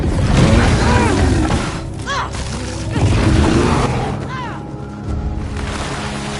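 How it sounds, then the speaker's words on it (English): Booms and crashing gunfire ring out in the samurai action game Ghost of Yotei, several sharp impacts over a dense, busy bed of ambient game sound. "Is that gunfire?"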